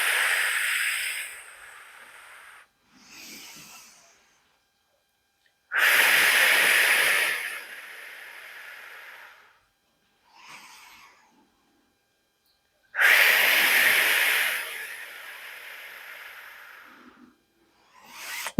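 Slow, deep breaths during a postpartum core-bracing leg exercise: three long, loud, airy exhales alternate with shorter, softer inhales, close to the microphone, in a steady, measured rhythm.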